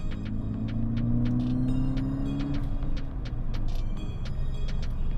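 Car engine pulling in third gear at around 3,000 RPM, a steady low cabin rumble with a drone that rises gently and then levels off, heard from inside the vehicle.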